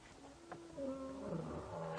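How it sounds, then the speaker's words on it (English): Male lions roaring in the wild as they run in toward a dying buffalo on an evening safari drive, deep rumbling roars building and overlapping, moderately distant and sustained. "So these male lions are running in here."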